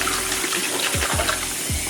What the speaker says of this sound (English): I'm just gonna run me some water in my sink, plug it up, make sure it's some hot steaming water.